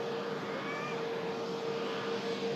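An EasyJet airliner rolls off the runway, a soft, steady engine whine with a faint tonal hum carrying from a distance and no talking over it.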